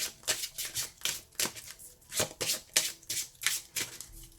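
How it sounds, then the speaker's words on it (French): Tarot cards are shuffled close up in a quick rhythmic run of riffling bursts, each a crisp papery flutter, repeated about a dozen times with short pauses between. "On mélange bien. Là, une dernière fois et on va couper."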